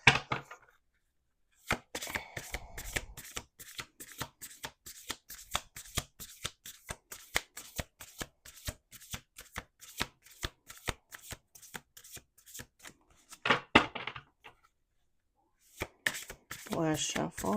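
Tarot or oracle cards are shuffled by hand in rapid, crisp riffling flicks, a long steady run of close, sharp taps with a brief pause, then another burst of shuffling.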